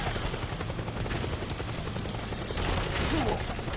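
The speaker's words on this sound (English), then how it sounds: "now I got plane shooting at me" Aircraft gunfire aimed at the player in the Metal Gear Solid 4 video game: a steady rattling barrage with a helicopter-like roar, continuous and loud, swelling slightly near the end, with no talk over it.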